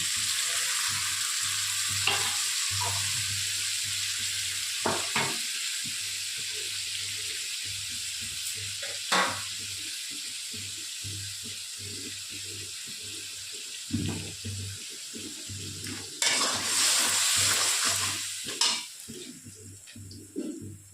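Prawn-head juice poured into a frying curry with colocasia being stirred, a steady low sizzle broken by repeated scraping spoon strokes, a steady hum beneath, and a louder splashing hiss near the end.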